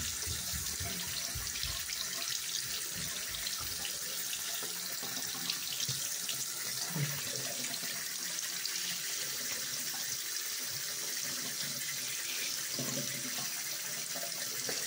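Cold tap water runs steadily from a faucet over a Kinder Surprise toy lizard, a continuous close splashing hiss with small shifts as the toy moves under the stream, and no talking.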